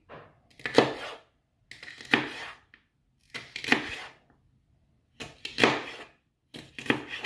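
A slightly blunt knife cuts through green pepper on a board in repeated, evenly spaced bursts of crisp chopping strokes, heard close with silent gaps between them.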